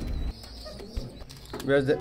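A pair of Chuha pigeons close by gives soft, brief coos with a little wing flutter, growing livelier toward the end of the short stretch, with a faint voice in the background.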